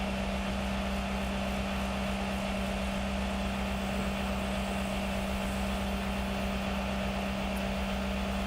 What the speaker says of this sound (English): Boat is loud.